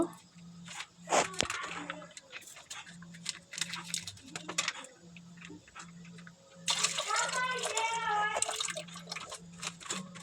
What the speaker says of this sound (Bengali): তো এক কেজি দুধ আমি এখানে ঢেলে দিব